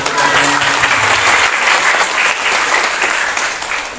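A room full of people at a public speaking workshop applauding, sustained clapping that stays loud for several seconds before starting to thin out.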